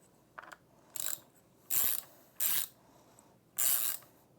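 A hand ratchet tightening the bolts on a squeegee blade assembly of an ATLAS floor scrubber, giving five separate bursts of ratcheting clicks, each roughly a third to half second long, with short pauses between.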